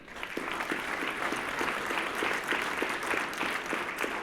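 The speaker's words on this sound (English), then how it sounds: "Let's give one more round of applause for all of the previous inductees and attendees" A hall full of attendees at an entrepreneur hall of fame ceremony applauds in a dense, even wash of clapping that holds steady at a moderate distance from start to finish.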